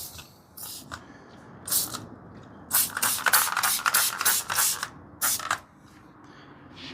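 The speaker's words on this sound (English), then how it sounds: "Spray everything down." A series of short spray bursts of Fenrir multi-use detailing dressing from a trigger bottle, irregular then in a quick run of pumps, close and fairly loud against quiet background.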